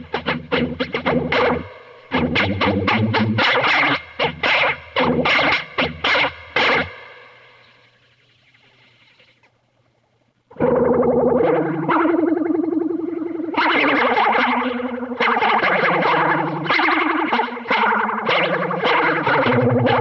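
Electric guitar played through an Electric Mistress or Longamp Roxanne flanger pedal, loud chords with a sweeping, swirling jet-like modulation, a short held note fading out midway, then more strummed and picked phrases.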